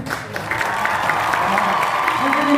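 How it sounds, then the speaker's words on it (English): Audience applause at a press conference, a steady patter of clapping from a crowd that carries on evenly for a few seconds, with some faint voices mixed in. "Can we give him a round of applause"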